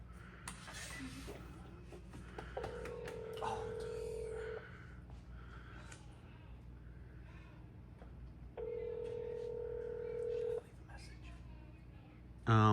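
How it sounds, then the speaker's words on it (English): Ring tones from a phone on speakerphone, two long steady rings each lasting about two seconds, separated by a pause, over a low background hum in a workshop, with faint talk in between. "It's ringing, buddy."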